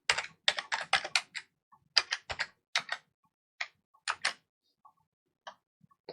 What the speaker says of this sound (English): so I'll type in a new password.